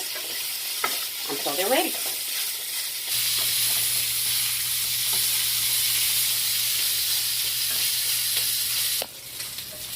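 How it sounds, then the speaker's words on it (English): Sausage frying on medium-high heat in a pan, a loud continuous sizzle close by, with a few tossing clatters early and someone speaking briefly at the start. "I'm going to fry my sausage"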